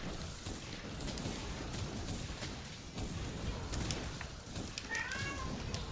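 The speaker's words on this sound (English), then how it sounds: "My cat meowing in the background." A pet cat meows in the background, a short rising cry near the end, faint beneath steady low rumbling game noise and quiet talk.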